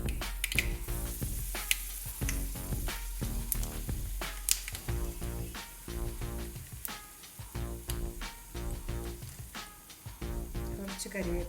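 Mustard seeds and two dried red chillies sizzle and crackle in a tablespoon of hot coconut oil, a steady fry dotted with sharp pops and spatters throughout.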